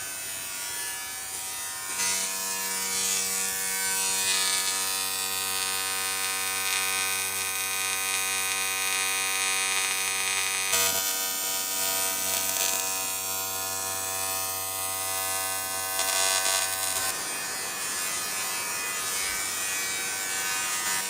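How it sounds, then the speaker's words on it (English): Steady electrical buzz with strong harmonic hum from TIG welding of aluminium on a promod drag car build, running nearly continuously with short breaks and a brief pause midway, close and fairly loud with no talk. "just welding up the last piece to go into this other side over here now"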